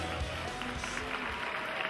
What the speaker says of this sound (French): Et on applaudit s'il vous plaît